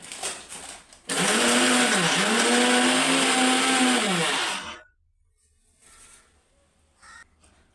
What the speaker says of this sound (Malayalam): ഇതെല്ലാം ഒന്ന് മിക്സിയിലൊന്ന് അരച്ചെടുക്കാം